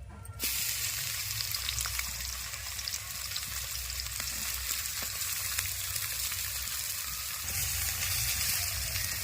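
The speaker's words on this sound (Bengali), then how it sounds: "তেলের উপরে দিয়ে দেব পেঁয়াজ কুচি" Chopped onion hits hot oil in a wok and sets off a sudden, loud, dense sizzle that holds steady for several seconds and swells slightly toward the end, with no voices.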